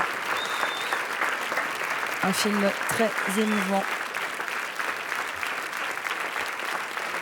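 Sustained crowd applause as a film team enters the Grand Théâtre Lumière, a continuous dense clapping bed with a presenter briefly speaking over it partway through.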